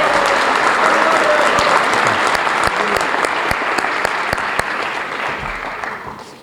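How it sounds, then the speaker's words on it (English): An audience at a high school varsity jacket night applauds coaches and volunteers in a dense, steady round of clapping that gradually fades toward the end, heard alone without talking. "So a nice round of applause for all of our coaches and volunteers."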